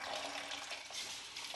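Water rushes steadily through deionization resin filter cartridges at about two gallons per minute, a close, continuous hiss and gurgle as air is purged from the lines.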